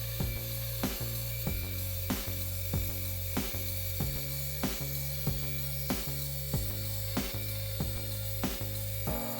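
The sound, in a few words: saw ripping a thick walnut slab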